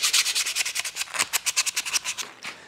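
Hand sanding of burrs off wooden parts for a homemade band saw, a quick run of rhythmic scratchy back-and-forth strokes, close and fairly loud, with no talk.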